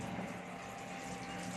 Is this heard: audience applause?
no